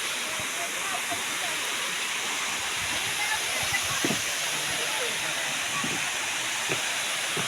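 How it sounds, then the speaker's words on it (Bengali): A waterfall at a scenic outdoor spot roars with a steady broadband rush of falling water, constant and fairly close, while faint low thumps and handling noises come and go beneath it. "দেখো পুরো ঝর্ণাটা দেখো জাস্ট অসাধারণ"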